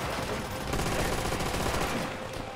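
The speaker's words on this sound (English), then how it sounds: "Who is firing at me?" Rapid gunfire in Call of Duty: World at War, a dense, continuous rattle of shots with booming low end, steady and moderately loud, no talk.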